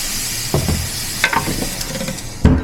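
Red-wine-marinated steak sizzles on a hot grill, a constant close hiss broken by a few sharp crackles and pops, with no talk.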